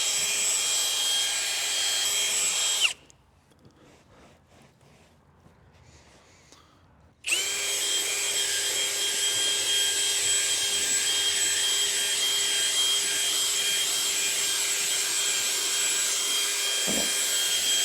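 A small brush on a power drill scrubs the carpet of a 2003 Lexus LX 470, a loud steady whirring hum that cuts out for a few seconds and then resumes and runs on evenly.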